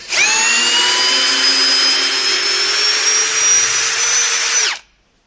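A Procraft PA18LiN cordless screwdriver spins loud and close in reverse to back out a screw, a steady high-pitched motor whine held for almost five seconds before cutting off abruptly.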